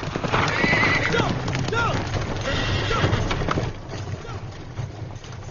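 Horse hooves clip-clop steadily as a horse-drawn carriage travels, with a horse whinnying amid the rhythmic clatter; people talk over the hoofbeats, which fade somewhat toward the end.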